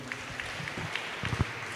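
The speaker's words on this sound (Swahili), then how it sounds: "Tuwapigie makofi tena" A church congregation at a Kikuyu Sunday service gives a brief, soft round of clapping, scattered hand claps sounding faint and somewhat distant in the hall.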